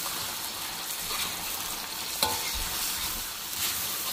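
Chicken karahi fries in ghee with yogurt in a wok, a dense close sizzle with stirring scrapes and a sharp clank midway, continuous and fairly loud with no talk.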